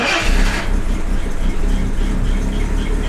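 A Jaguar XJ6 engine fitted with Stromberg carburettors and water chokes fires up and revs, loud and close, then settles toward a steady, throbbing idle.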